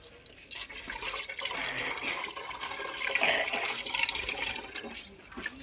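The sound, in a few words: water poured into washing machine pump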